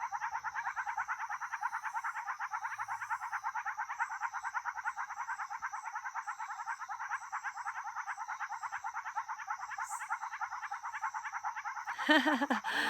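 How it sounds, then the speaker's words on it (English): A dense chorus of frogs croaks from a small pool beside a garage in the Costa Rican countryside. The calls overlap in a steady, loud, unbroken pulsing that lasts throughout. "There's this little pool, and we call it the frog pool. Just hear them. It's an orchestra."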